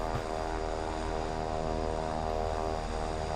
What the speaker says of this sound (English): That is a cool plane, the Sky Courier.